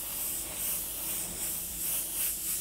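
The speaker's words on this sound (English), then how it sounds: "from a distance, I'm just going to spray over that previous layer" Airbrush spraying Createx orange illustration color from a distance over an earlier painted layer, a soft steady hiss that swells and eases in gentle pulses, alone with no talk.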